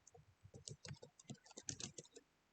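Quiet, close typing on a computer keyboard, with irregular bursts of light clicking keystrokes and short pauses between them.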